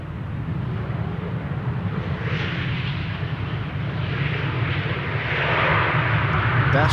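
A German Airways passenger jet arrives at Amsterdam Schiphol, its engines making a steady, distant low rumble and broad roar that swells gradually toward the end.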